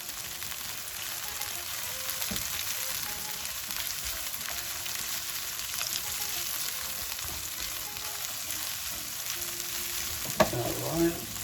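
Capsicum and chili fry in a pan for an egg and chicken roll, giving a soft, even sizzle throughout with a few faint stirring scrapes and a brief clink near the end.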